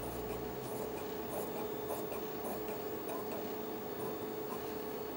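Scissors cutting a fabric sleeve around a template make steady, soft crunching snips with faint ticks and a low constant hum underneath, close and quiet.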